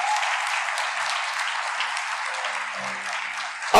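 A church congregation applauds steadily at a radio-broadcast service, a dense, even wash of many hands clapping throughout, with faint voices murmuring beneath.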